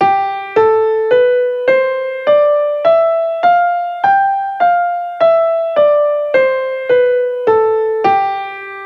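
A musical scale starting on G and played with an F natural, which gives it a slightly wrong, not-quite-major feel. About fifteen clear, evenly spaced sustained notes step upward and then back down, each note struck and left to ring, with no talking.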